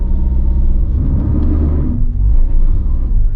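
A Toyota Veloz, Mitsubishi Xpander or Suzuki Ertiga attempts a hill start on a rain-slick, sandy slope, the engine a heavy steady rumble heard up close from inside, swelling slightly near the end.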